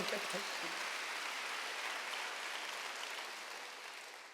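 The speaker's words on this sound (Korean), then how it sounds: "박수로 한번 드리세요" Church congregation applause at a Wednesday worship service, a soft continuous wash of clapping that slowly fades, heard from a distance.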